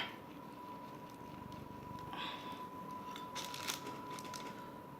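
A knife slices open a warm keto bagel topped with everything seasoning, giving brief crunchy scraping bursts up close over a steady background hum, with no talking.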